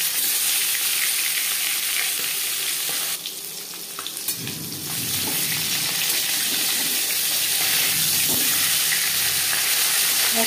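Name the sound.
fish head and fish frying in mustard oil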